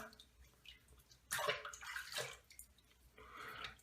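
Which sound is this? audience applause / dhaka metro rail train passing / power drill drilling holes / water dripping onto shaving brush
water dripping onto shaving brush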